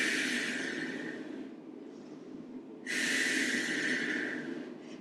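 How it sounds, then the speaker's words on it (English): Two long, deep breaths during a yoga stretch, each a slow airy inhale or exhale close to the ear with a short quiet gap between, no talking. "2 big breaths here."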